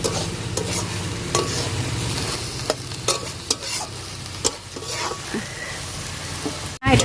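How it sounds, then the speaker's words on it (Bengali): Spinach and mixed vegetable curry frying in a pan while being stirred, giving steady sizzling with scattered scraping clicks from the spoon throughout, and a sharp clatter at the very end. "চিনি দিয়ে দিলাম তো আর একটুখানি ঘুটে নাড়াচাড়া করে জলটা আর একটুখানি শুকিয়ে আসবে"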